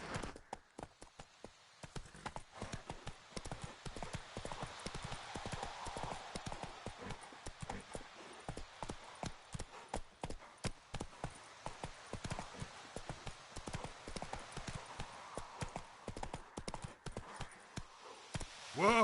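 Roach the horse's hooves clip-clopping in The Witcher 3, a steady rapid rhythm of hoofbeats at a trot or gallop, moderately close and continuous, with the pace holding throughout.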